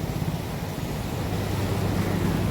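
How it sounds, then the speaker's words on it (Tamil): Strong, steady roar of river water rushing through four open dam shutters, loud and continuous with broadband turbulent noise and wind-like buffeting, no voices. "இந்த நாலு சட்டர் மட்டும் ஓப்பனில் இருக்குது தண்ணி சும்மா பட்டை எடுத்துகிட்டு போகுது"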